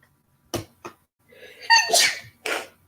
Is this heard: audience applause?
no